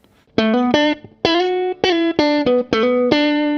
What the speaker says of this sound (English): So I've got a bit more reverb on my lead tone